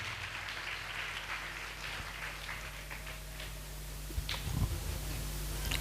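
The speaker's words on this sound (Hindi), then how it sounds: "केवल हम ताली बजाकर हम प्रभु के दास को आगे के वचन के स्वागत करते हैं" A church congregation at a prayer festival claps together to welcome the preacher, a dense spread of hand claps heard at moderate distance that holds steady and swells slightly toward the end.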